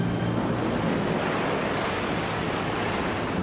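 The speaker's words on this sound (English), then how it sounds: "Monster 30-foot waves advance like soldiers, sending chills through the most seasoned sailors." Storm waves on Lake Superior roar in a dense, unbroken wash of surf and wind, loud and close, with no pauses and no voices.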